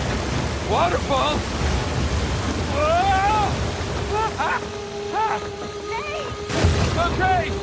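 Rushing waterfall in Uncharted 4, a steady broadband roar of cascading water running through the whole scene, with excited voices shouting over it and a sharp impact near the end.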